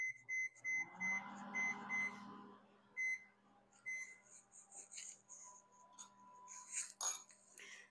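A microwave oven's keypad being set for a four-minute cooking time while making sweet dumplings for a Ganesh festival offering, giving a string of short, clear electronic beeps in quick succession, followed by quieter clicks and a brief clatter near the end.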